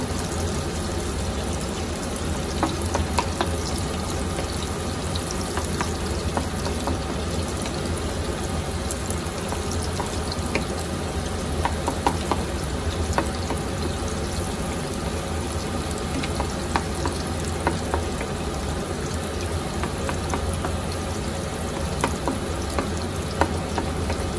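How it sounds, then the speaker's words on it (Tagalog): Onion and garlic sautéing in a pan for chicken sotanghon soup, a steady broadband sizzle running throughout with scattered stirring clicks and scrapes, close and continuous with no talk. "Isunod na natin yung ating sibuyas. Huwag nung susunogin yung bawang dahil mapait yan."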